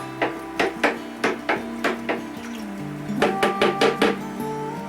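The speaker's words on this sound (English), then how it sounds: "We'll give our liquid a trusty stir." A spoon or paddle stirs hydroponic nutrient solution in a Kratky reservoir, knocking against the container in a steady series of sharp taps with a brief pause midway, then quicker knocks, close and moderately loud.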